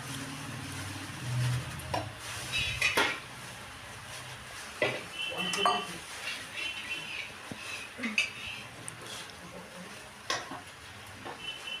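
Spice paste being cooked in a wok (kadai) in a home kitchen, with scattered scrapes and clinks of a utensil against the pan over a faint sizzle and quiet background.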